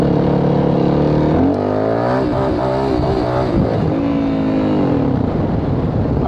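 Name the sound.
Yamaha WR450F dirt bike engine during wheelie practice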